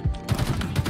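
Rapid burst of gunfire in Halo Infinite multiplayer, a close, continuous rattle of shots filling the whole moment with no voices over it.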